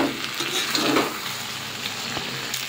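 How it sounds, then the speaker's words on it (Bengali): Chili chicken coated in cornflour being stirred in a hot pan over a high flame, with steady close sizzling and frying hiss and a few soft scraping stirs, no voices. "অল্প একটু নাড়াচাড়া করে নেব।"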